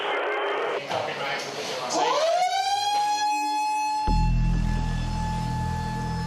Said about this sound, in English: we'll hit the alarm